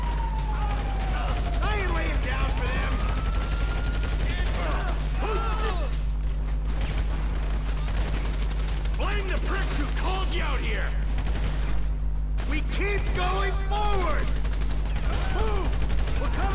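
Gunfire in Grand Theft Auto V comes as scattered sharp shots over a constant low engine hum and a wailing police siren, with a voice speaking now and then amid the chaotic game action.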